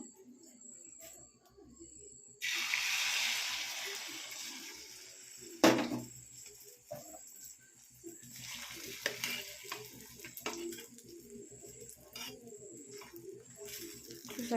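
Omelette frying in a pan, a hissing sizzle that starts suddenly and continues with scraping and stirring noises, moderately faint, with a voice speaking over it at times.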